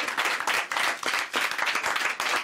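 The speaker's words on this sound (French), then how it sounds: "Je vais applaudir bien fort Cécile, s'il vous plaît" A TV studio audience claps for a mentalist segment, rhythmic bursts of applause that pulse in waves with short dips between, moderately loud and unaccompanied by talk.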